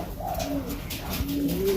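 Cooing of a Bali pigeon crossed with the benguk breed: soft low rising-and-falling coos repeating steadily and close, with no voices.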